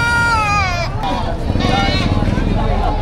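Goats bleat at a busy livestock market in Padre Garcia, Batangas, a wavering high call standing out over a dense crowd murmur and nearby voices.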